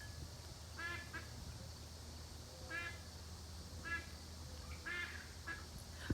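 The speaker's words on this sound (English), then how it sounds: "That was a quail over there. You heard that? That was a quail." A quail calls outdoors on a quiet morning, faint and distant, repeating its short call about four times over a low, steady background hush.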